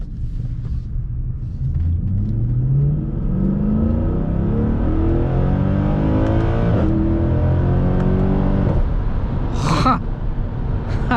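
Mercedes C63 engine accelerating from inside the car, a deep rumbling roar climbing in pitch through repeated gear changes, loud and close, with brief shifts and a sharp burst near the end.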